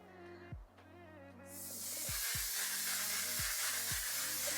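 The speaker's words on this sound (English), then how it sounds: "We're going to give ourselves a good amount of set spray." A few soft clicks, then a long, steady hiss of makeup setting spray close by, growing louder and continuing to the end.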